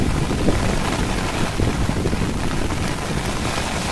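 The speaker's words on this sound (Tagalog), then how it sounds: "sobrang lakas na ng ulan dito sa Manila Bay" Heavy rain pours steadily at Manila Bay, a dense, loud, continuous hiss and patter with wind buffeting, unbroken throughout and with no voices.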